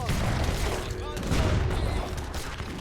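Ottoman bombards and battle fire in Age of Empires III, a busy wash of overlapping booms and volleys, loud and continuous with a brief whistling sweep near the one-second mark.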